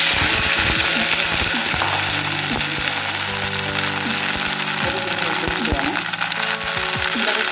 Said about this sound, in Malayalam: ഈ പാനിലേക്ക് ഞാൻ നമ്മൾ അരിഞ്ഞ് വെച്ചിരിക്കുന്ന ഈ വെണ്ടയ്ക്ക ഇതിൽ